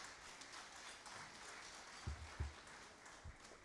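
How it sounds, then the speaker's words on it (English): A dinner audience claps at an awards evening, a soft, distant and even patter of many hands with a few louder close claps or knocks near the end. "Let's give them a round of applause."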